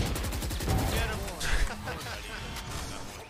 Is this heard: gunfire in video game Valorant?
yes